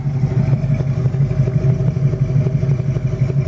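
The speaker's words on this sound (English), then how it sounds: "Man, it sounds good. You got your exhaust pipes back here." A 1969 Ford Mustang engine runs at a steady idle, its exhaust giving a deep, loud, close-up rumble that throbs evenly and continuously with no talk over it.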